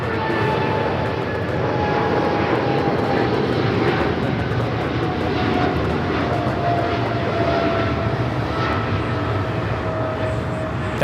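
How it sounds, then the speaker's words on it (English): An American Airlines Boeing 777-300ER takes off from Los Angeles bound for Dallas-Fort Worth, its jet engines a loud, steady, unbroken roar with a high whine, close and without talk. "American Airlines 1687 taking off to Dallas-Fort Worth on the 777-300ER"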